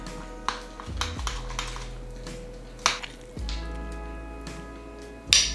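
Lobster is tossed with Old Bay seasoning in a dish, with soft squishing and occasional clinks of a utensil against the pan or bowl between quieter stretches.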